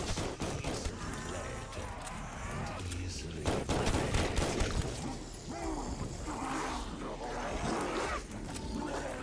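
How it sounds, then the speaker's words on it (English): Pistol gunshots in the World War II shooter Call of Duty: Vanguard, a run of sharp, loud reports mixed with gunfire and roaring game noise, while a person talks over the action. "let me try out the pistol here"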